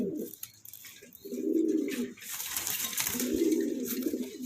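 A pair of yellow Capuchine pigeons cooing softly nearby, two low rolling coos a couple of seconds apart, with faint background noise.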